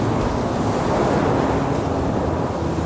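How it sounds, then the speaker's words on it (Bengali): Stormy wind blows in a steady, loud, unbroken roar of broadband rushing noise with no pauses, used as a sound effect for a Bengali horror audio drama. "বাইরে ঝোড়ো হাওয়া বইছে"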